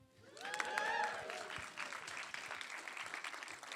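An audience cheers and applauds at a community launch event, a loud swell of voices and clapping at first that settles into steadier applause.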